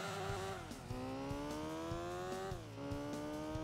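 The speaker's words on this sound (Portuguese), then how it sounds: "olha o barulho desse carro, velho" A video game car engine revs hard and steadily nearby, its pitch sliding down at each gear change and then climbing again, with faint ticks over the top.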